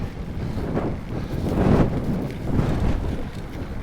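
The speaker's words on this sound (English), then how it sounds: "it's just a bit windy" Steady wind buffets the microphone with a low, rumbling roar, swelling in gusts and never letting up.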